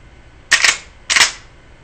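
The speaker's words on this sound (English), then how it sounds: "you can cycle it all day with or without ammunition in it with your little finger." Marlin 1895STP .45-70 lever-action rifle cycled by hand, two quick metallic clack-clack strokes of the lever and bolt, close and crisp, with no talk.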